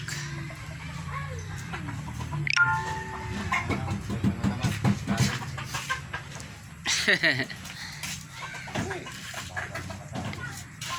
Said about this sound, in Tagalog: Pagkain sa mga manok.